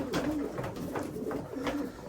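Young racing pigeons cooing in a loft: a few low, rolling coos repeat close by at a moderate level, alone, with no voices.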